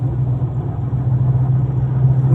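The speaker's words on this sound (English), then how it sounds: "huge tyres on there, and they're off-road tyres, and so you do get that drumming" Broad off-road tyres on 17-inch wheels drum steadily beneath a car, a loud, constant low rumble with the engine droning inside the cabin.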